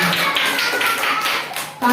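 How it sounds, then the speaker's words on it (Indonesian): A classroom of students claps for a classmate after a presentation, a brisk burst of many hands that fades out near the end, with a voice starting just afterward. "Tepuk tangan untuk Sam."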